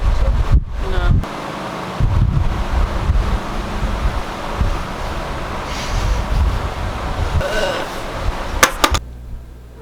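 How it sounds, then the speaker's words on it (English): Gusty wind blows outdoors, buffeting the microphone with loud low rumbling bursts and rustle for most of the stretch, then cutting out abruptly near the end. "The wind is fucking us over."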